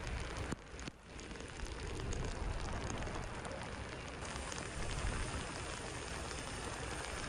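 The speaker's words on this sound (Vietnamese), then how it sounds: "Rồi trời bắt đầu mưa to trở lại," Heavy tropical-depression rain pours steadily at night in Nha Trang, a dense, close and unbroken roar that swells slightly after the first second.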